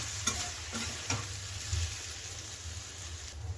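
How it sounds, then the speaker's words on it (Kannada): Raw mango masala is stirred with salt in a pan, soft sizzling under repeated scraping strokes of a spoon, close up with no talking. "ಉಪ್ಪನ್ನು ಸೇರಿಸ್ಕೊಂಡು ಚೆನ್ನಾಗಿ ಮಿಕ್ಸ್ ಮಾಡ್ಕೋಬೇಕು"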